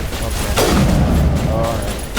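A gunshot fired for a headshot in Mass Effect on the hardest difficulty: a sharp, loud blast at the start, a booming decaying tail, then a second crack near the end.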